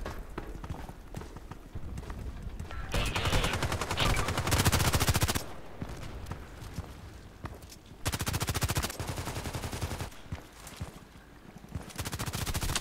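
RPK machine gun fire in the shooter Contract Wars: bursts of rapid automatic shots come in several separate stretches, loud and close, with quieter gaps of ambient game sound between them.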